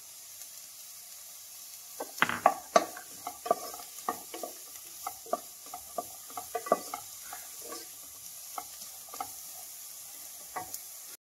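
Chopped capsicum sizzles in a hot frying pan while a spoon stirs and scrapes it in irregular clattering strokes, close up, for a white pasta made with paneer and milk.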